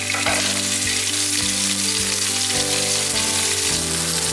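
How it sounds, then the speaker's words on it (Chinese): Green beans fry in the oil left in a pan after cooking potatoes, with a loud, constant close sizzle and a few light clicks of stirring, no talking. "利用锅内的油来稍微煎一下敏豆。"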